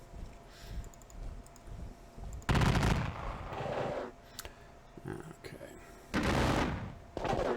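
Gunfire crackles in an American Civil War strategy video game, with bursts of rapid musket volleys in two loud stretches, separated by quieter passages with keyboard clicks and someone speaking briefly.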